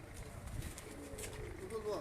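A pigeon coos on a rooftop, soft and brief amid faint background noise and nearby talk.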